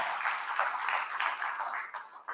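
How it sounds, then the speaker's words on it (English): An audience at a live fishing awards show applauds, a dense, even wash of clapping that runs the whole moment with no talking over it and tapers slightly at the end. "Let's give John a big round of applause"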